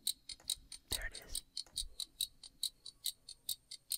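Clock ticking in a K-pop song track, a steady series of crisp, evenly spaced ticks about four per second, with a brief louder burst of other sound early on.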